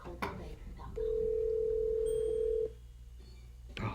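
A telephone dial tone heard while a call is being placed, a steady single pitch holding for nearly two seconds, with short clicks and voices before and after it.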